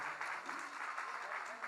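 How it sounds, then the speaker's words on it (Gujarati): Audience applause at a Janmashtami celebration gathering: a steady wash of clapping from a crowd lasting the whole short stretch, fairly distant and even in level. "બધાને એક વખત જોરદાર તાળીઓના ગડગડાટથી વધાવી લો"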